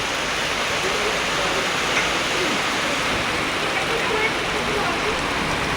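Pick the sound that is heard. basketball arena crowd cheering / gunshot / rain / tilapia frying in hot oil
rain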